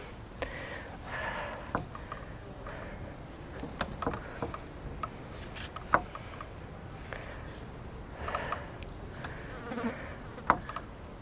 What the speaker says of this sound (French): Je me fais attaquer par les mouches